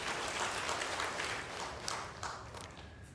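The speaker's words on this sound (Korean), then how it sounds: "우리 박수 한번 해줍시다." A congregation applauds during a Korean church service, honoring elderly members in attendance; the clapping forms a dense, steady wash of many hands that holds at an even level throughout, with no talk over it.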